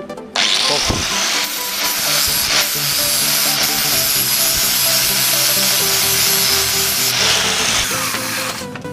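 A welder fuses the joins of a scrap metal R2D2 sculpture with a loud, continuous crackling buzz that holds steady for several seconds and then cuts off.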